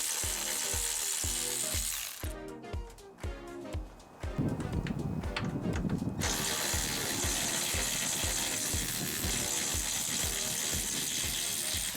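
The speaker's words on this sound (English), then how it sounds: "The first thing we want to do is remove these 13mm bolts." A hand ratchet clicks in quick, steady rhythm while backing out 13mm radiator mounting bolts, one on each side, on a GMC Yukon SUV. The clicking runs loud and close nearly throughout, with a short break of scattered metal clatter partway through.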